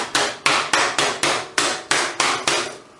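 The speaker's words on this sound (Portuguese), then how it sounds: "eu não tenho um martelo de bater carne, então vou improvisar com essa frigideira pequenininha" A small frying pan is used as a makeshift mallet to pound a chicken breast, giving about nine sharp, evenly spaced thuds close up, each with a short ring-off, with no talking.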